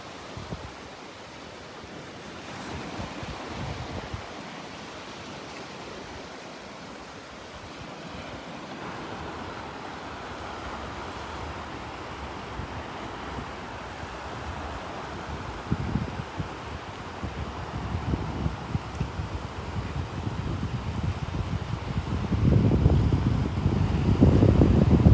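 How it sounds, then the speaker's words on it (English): Wind blows steadily across a Gulf beach at Delnor-Wiggins on a morning walk, a broad rushing noise mixed with surf that grows stronger and gustier toward the end, with microphone buffeting. "That wind."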